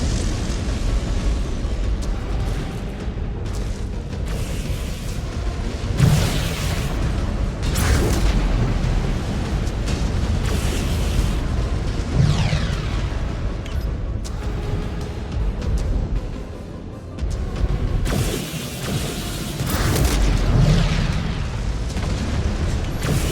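Booming explosions from a destroyed mech in the MechWarrior Clans game, several heavy blasts rolling over a constant low mechanical rumble, loud and close with repeated swells.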